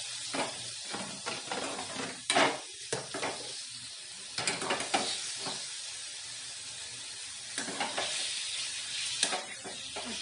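Boneless chicken pieces sizzle and fry in a pan, a steady hiss with intermittent louder crackling bursts and occasional stirring scrapes, close and alone without talk.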